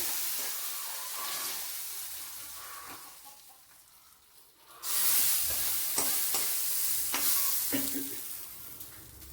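A chili powder mixture is poured into a hot pan for a colocasia curry: quiet simmering gives way to a sudden loud hissing sizzle that stays strong, then eases slightly, with faint clinks.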